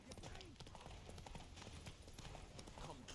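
Roach the horse's hooves clip-clopping in The Witcher video game, a faint, quick steady trotting rhythm under a low game soundscape.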